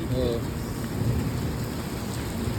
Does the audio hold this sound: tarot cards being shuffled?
no